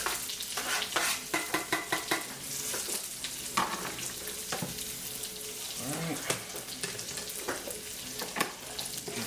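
A frittata mixture of egg, spinach and red pepper poured into a hot pan, spreading into a close, moderate sizzle punctuated by scrapes and small utensil clinks.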